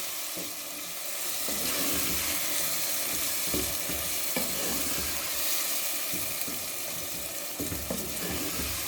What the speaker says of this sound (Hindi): इसको हम अच्छी तरह से पहले भून लेंगे पालक को मसाले के साथ